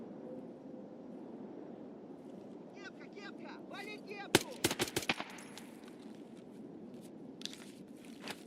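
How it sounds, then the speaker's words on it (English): Sniper fire from a mountain in the video game Escape from Tarkov, a quick cluster of sharp distant gunshot cracks midway through, over low ambient noise and faint shuffling. "Sniper on the mountain was shooting at him too."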